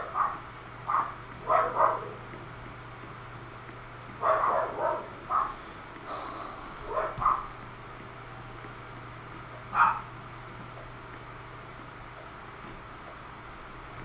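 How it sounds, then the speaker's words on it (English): Pet dogs barking in a home, a few scattered bursts of several barks each, some doubled, at moderate distance over a steady low hum, with a long quiet stretch before one final bark. "My dogs are going crazy."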